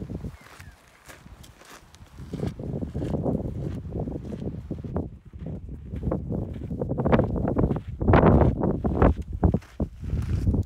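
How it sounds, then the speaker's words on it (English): Gusty wind roars and buffets the microphone in uneven surges on a mountain at about 8,500 feet in Lassen Volcanic National Park, growing louder toward the end, with faint crunching steps underneath. "It's a windy one."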